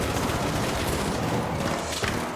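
Dense, continuous machine gun fire in the video game Arc Raiders, loud and noisy with overlapping shots and no pauses.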